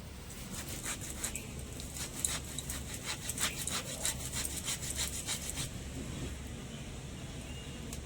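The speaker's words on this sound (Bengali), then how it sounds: "ঠিক একইভাবে সবগুলো তালের আটি ঠিক এরকম গ্রেটারের মধ্যে দিয়ে ঘষে নেব" Ripe palm fruit pulp is rubbed through a grater by hand, making a quiet, rhythmic scraping in repeated strokes, close and alone without talk.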